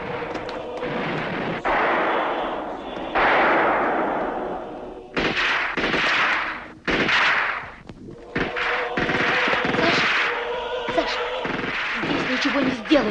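Gunfire and shooting in a dramatic outdoor scene, with heavy booming blasts and rolling bursts that come in waves over about thirteen seconds, loud and continuous with short gaps between salvos.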